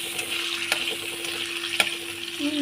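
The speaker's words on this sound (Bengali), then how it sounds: "প্রথমেই আমি তেলের মধ্যে একটু আদা বাটা দিয়ে দেবো" Ginger and green chili paste frying in oil for a vegetarian dhokar dalna, a steady close sizzle with a couple of sharp stirring clicks against the pan and a low constant hum beneath, no talking.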